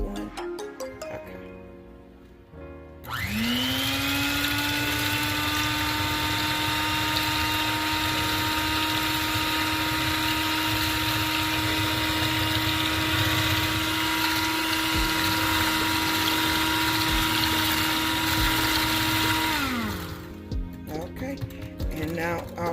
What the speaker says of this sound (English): I'm going to go ahead and use my mixer, and I'm going to pour slowly to combine